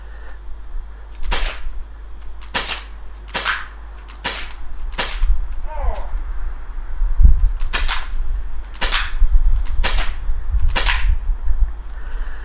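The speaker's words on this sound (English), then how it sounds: "for our first test, we've got some .3 gram BBs with the equivalent of a .2 at 350 FPS." An airsoft gun fires 0.3 gram BBs at a Tippmann mask, a series of about ten sharp snapping shots spaced irregularly, each cracking close and loud against a low steady background hum.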